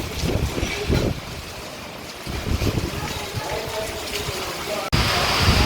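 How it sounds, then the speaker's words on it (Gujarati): Steady rain pours while gusting wind from a small village windstorm roars across the microphone, a loud continuous rushing wash with brief bursts, and a voice speaking faintly beneath. "વરસાદ પડે છે ને પવને ફેંકે છે સીધો"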